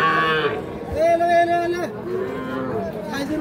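Young bull calves about three months old low and moo at a village cattle market, with drawn-out calls close by rising over background crowd chatter and people talking.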